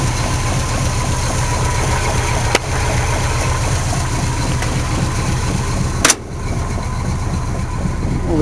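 A Chevrolet K10 truck engine idling steadily just after starting, loud and close, with a constant low rumble and a couple of brief clicks partway through.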